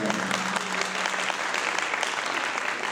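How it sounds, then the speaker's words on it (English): Audience applause at a high school student council discussion event, a steady burst of many hands clapping together, loud and continuous throughout the short stretch. "applause for that."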